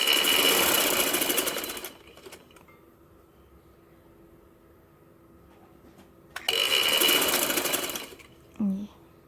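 A sewing machine stitches the side seam of a kurta in two bursts, one of about two seconds and one shorter, separated by a quiet pause, with a brief faint sound near the end.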